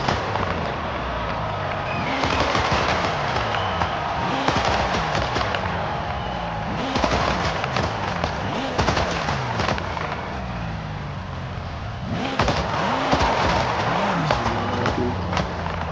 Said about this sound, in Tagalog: Yung sa motor, yung pumuputok-putok? Backfire.